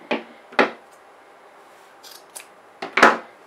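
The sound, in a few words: scissors cutting a fabric bag handle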